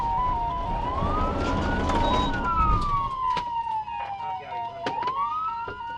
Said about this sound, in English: I activated my siren at that point.